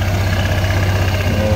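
A Honda Airblade 160 scooter, fitted with a JVT racing pulley and its side crankcase cover, idles in a steady, close, even low hum with a faint mechanical buzz and no throttle changes.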